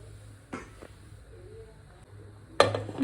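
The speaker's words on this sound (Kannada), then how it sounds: "ಕುಕ್ಕರ್ ಮುಚ್ಚಲ ಮುಚ್ಚಿಬಿಡೋದು ಈಗ" A pressure cooker lid is shut in a home kitchen, with a soft metallic clink followed a few seconds later by a sharper, louder clank against quiet background hum.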